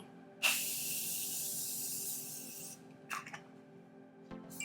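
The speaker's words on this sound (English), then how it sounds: "I'm going to take the Morphe spray and spray my face to try and melt that powder in before I stick this on." Morphe setting spray misted onto a face over powder: one long, loud, close hiss of about two seconds, then a couple of brief softer spritzes, with no talking.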